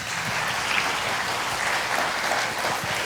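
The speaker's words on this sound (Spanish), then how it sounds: "Démosle un aplauso a José Mario" A congregation at a church service claps for a worship leader, a dense, steady round of applause at moderate volume with no voices over it.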